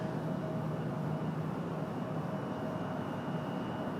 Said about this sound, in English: Delta 1518, an A321 coming in from Atlanta.